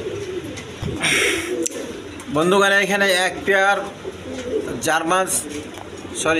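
German pigeons, a pair of large blue-barred feather-footed birds, coo in short bubbling bursts near the microphone as someone speaks in Bengali over them.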